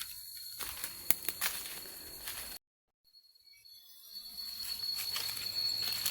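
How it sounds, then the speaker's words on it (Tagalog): Forest ambience with insects chirping steadily, a brief dead silence in the middle, then the chirping of crickets gradually returns and grows. "puro kuliglig lang lang naririnig natin dito sa kagubatan"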